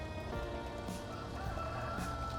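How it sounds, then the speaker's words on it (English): A rooster crows in Farming Simulator 2013 on the Beskidy farm map, a drawn-out call heard against a steady bed of farmyard ambience and a faint hiss like rain. "There's our rooster."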